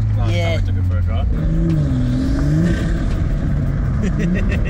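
A Toyota Supra with an aftermarket exhaust accelerates hard, a loud close engine roar climbing through the revs, shifting and then carrying on under a rising tone, with voices talking over it.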